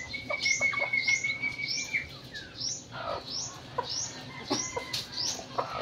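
Native chickens cluck and chirp in short, repeated calls at close range, with a few higher bird notes scattered among them.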